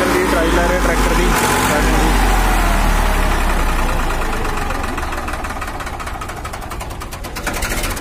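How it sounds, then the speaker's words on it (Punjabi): An old Swaraj 855 FE tractor engine runs at a Barnala tractor market, a steady low throbbing rumble with knocking texture that eases slightly toward the end; people talk over it nearby. "ਟਰੈਕਟਰ ਦੀ ਟਰਾਈ ਲੈ ਰਹੇ,"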